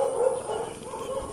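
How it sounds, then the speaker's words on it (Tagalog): Dogs bark and whimper at a distance, with short yelping calls over a faint background hum. "Maraming aso."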